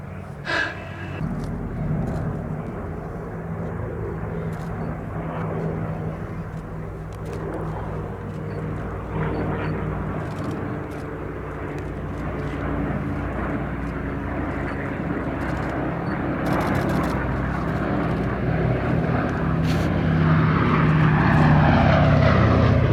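Boeing B-17 Flying Fortress bomber's propeller engines drone steadily and loudly throughout, a continuous low multi-engine roar that swells toward the end.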